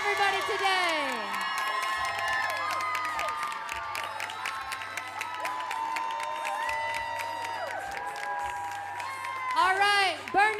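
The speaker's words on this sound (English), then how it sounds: "One more big round of applause for everybody today." A crowd at the Burn Boot Camp Athlete Games claps, cheers and whoops, with high shouts and whistles over steady applause and a loudspeaker voice in the background.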